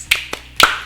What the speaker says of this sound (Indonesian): Tepuk karakter